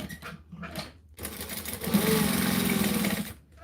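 A sewing machine stitches fabric in short bursts, two brief runs followed by a longer steady whirring pass of close motor hum and needle chatter that stops abruptly.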